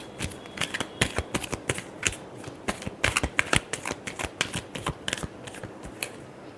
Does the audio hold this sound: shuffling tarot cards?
yes